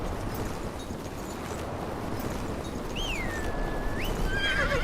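A horse in the Game of Thrones video game, heard as hooves and ambient noise, then a clear high whinny rising and falling near the end, with no talking.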